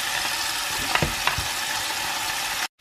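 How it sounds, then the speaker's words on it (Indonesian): Chicken pieces frying in hot oil for homemade mie goreng rica rica give a steady crackling sizzle, with a couple of brief stirring knocks near the middle, before the sound cuts off abruptly at the end. "Ini kita akan goreng ayamnya dulu."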